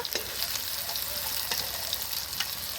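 Garlic and ginger paste fry in hot oil with onions in a pan for a spicy meat curry, a steady close sizzle with a few sharp scrapes of stirring, no voices.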